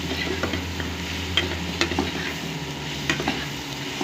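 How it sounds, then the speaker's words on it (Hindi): Chili frying and being stirred in a pan, a steady sizzle broken by several sharp scraping stirs, close and moderately loud with no talking. "डाल के इसको फ्राई कर लेते हैं।"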